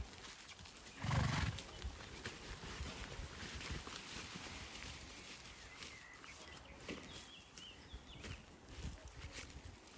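A mare gives a short, loud neigh near the start, then the scene settles into quiet outdoor ambience with faint shuffling and occasional distant sounds.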